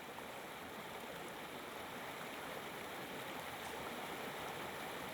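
A stream flows steadily in a broad, continuous wash, close and even, with no voices.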